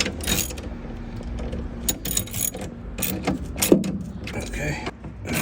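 Seat belt bolts being tightened on a 1967 Camaro convertible, heard as irregular close metallic clicks, ratcheting ticks and small rattles spaced across the clip.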